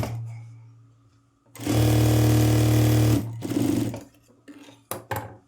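A sewing machine runs in one loud, steady burst of about one and a half seconds, stitching a one-inch folded hem on a blouse sleeve, then gives a few short clicks and taps as it stops.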